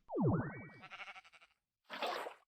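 Sheep bleating in a modded Minecraft game, a rapid falling-then-rising series of bleats followed by a shorter second bleat, loud and close with no talk over it.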